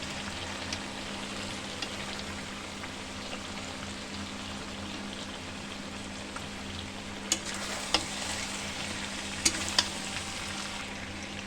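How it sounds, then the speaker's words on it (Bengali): Potato pieces fry in oil with mutton curry, a steady close sizzle with a few sharp spoon scrapes and taps as the pan is stirred, no talking. "এবার আমি আলুগুলো একটু দিয়ে দেবো আলুগুলো দিয়ে একটু নাড়াচাড়া করে নেব"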